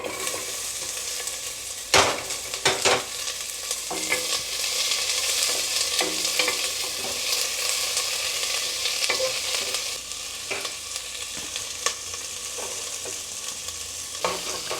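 Onions fry in a pan for paneer biryani, giving a continuous close sizzle broken by repeated scraping and clattering stirs of a spoon against the pan.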